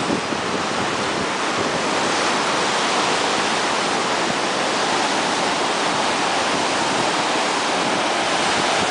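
Ocean surf rolls in at Bondi, a steady loud broadband roar of breaking waves and rushing water with wind noise, unbroken throughout.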